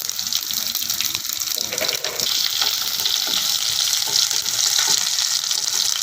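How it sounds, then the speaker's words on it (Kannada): Cumin seeds and garlic sizzle steadily in hot oil in a pan, a bright continuous frying hiss with small crackles, close and loud with no talking. "ನೋಡಿ ಜೀರಿಗೆ ಬೆಳ್ಳುಳ್ಳಿ ಸ್ವಲ್ಪ ಬೆಳ್ಳುಳ್ಳಿ ಎಣ್ಣೆಯಲ್ಲಿ"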